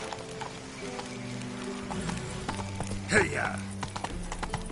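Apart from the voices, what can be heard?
Roach the horse galloping in the video game Witcher 3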